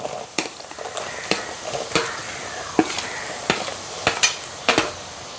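Shallots going into a pan of crushed ginger and garlic for a festive liver roast, with a soft continuous sizzle broken by repeated sharp scrapes and knocks of a spoon stirring against the pan, no talk.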